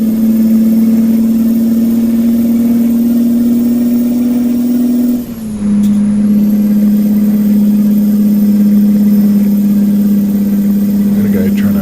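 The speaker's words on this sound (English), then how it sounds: "Listen to that fucking motor drone," A Kenworth truck engine in American Truck Simulator drones steadily and loudly at a constant pitch, dipping briefly midway before settling back into the same low hum.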